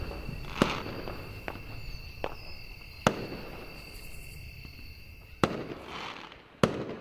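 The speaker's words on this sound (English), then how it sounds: "Soon I heard the sound of the first rocket make its way into the night sky, after which it exploded in a pattern of colors." Fireworks rockets explode in the night sky of the game Angels with Scaly Wings, with four or five sharp, spaced bangs over a faint, continuous crackling background.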